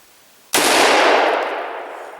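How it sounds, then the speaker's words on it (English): A single loud rifle shot at a deer hunting camp in Michigan's Upper Peninsula cracks out of near silence, then rings and fades slowly across the open air. "Nice shot."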